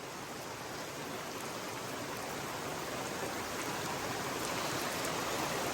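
Heavy rain pours down steadily on a house roof in a valley, heard from the open space beneath the house; a dense, loud, unbroken hiss with no voices.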